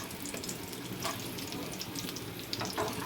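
Gram-flour-stuffed capsicum pieces fry gently in oil over a low flame, giving a soft continuous sizzle and crackle that stays quiet and steady throughout.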